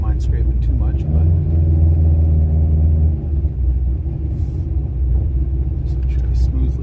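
A Corvette C5 Z06 with a 445ci LS7 engine rumbles loud and close as it pulls out, its deep throaty drone swelling briefly before easing to a lighter, steady burble.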